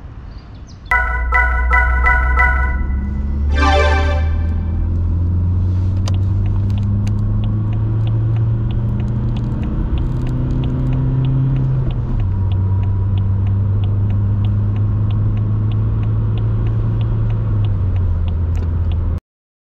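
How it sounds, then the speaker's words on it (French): A 2000 Peugeot 406 with a 2.0 litre HDI 110 diesel drives on the road, giving a steady low cabin rumble whose engine pitch rises and falls with speed and gear changes, after a brief chime at the start. "nous voici au volant de cette 406 2 litres HDI 110, année 2000"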